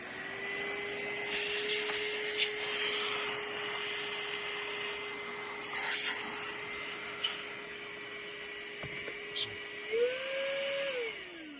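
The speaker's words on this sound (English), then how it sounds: "I guess I should have instructed him on how to use the vacuum cleaner" A small handheld vacuum cleans lint from a serger's catch tray, giving a faint steady motor whine with scraping bursts as it moves, then rising in pitch near the end.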